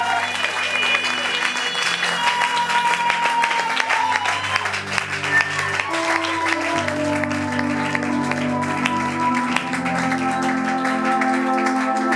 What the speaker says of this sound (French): J'aimerais que sous tes acclamations, nous invitons l'homme de Dieu, l'évangéliste Dieu merci